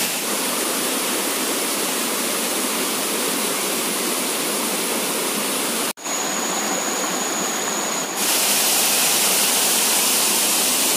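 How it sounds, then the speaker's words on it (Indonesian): The Sarai Brunyau waterfall gives off a loud, steady roar of rushing water that fills the whole scene. It cuts out for a brief moment partway through, then comes back just as strong. "inilah tampak dari atas air terjun"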